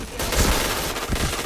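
Dense, continuous gunfire from the online shooter game Point Blank, with heavy overlapping bursts and booming low-end impacts packed across the whole moment, loud and close with no voices.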